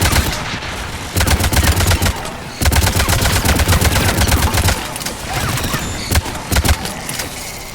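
Anti-aircraft guns in Mass Effect 3 pound away in long rapid bursts of heavy automatic fire. The loud volleys break off briefly and then resume, with scattered shots between them.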